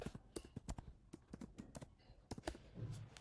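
Typing at a computer keyboard while entering a console.log command in a browser console, a quick irregular run of sharp clicky keystrokes, close and fairly quiet, with a short pause midway.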